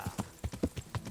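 A mare galloping in Kingdom Come: Deliverance, with steady, rhythmic clip-clop hoofbeats close by, about five strong strikes in quick succession and no talk.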